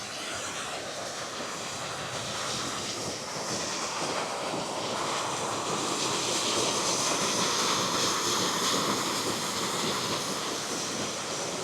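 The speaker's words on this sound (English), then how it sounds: "A bridge and the sound of flowing water means one thing." Steady rushing water flowing under a bridge on a Scottish Highlands trail, a continuous broadband roar that swells slightly and holds at a constant level, with no voices over it.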